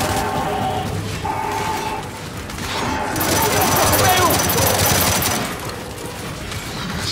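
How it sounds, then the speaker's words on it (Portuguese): Gears 5 gameplay with a fragmentation grenade thrown, giving a loud burst of gunfire and a heavy blast wash that swells mid-clip amid continuous game action and talk. "Lançando granada de fragmentação."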